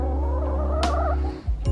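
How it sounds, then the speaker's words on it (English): A chicken in a backyard coop gives a single loud drawn-out cluck with a warbling, wavering call, close by, over a low steady hum, ending in a brief scuffle. "Oh, there's a chicken."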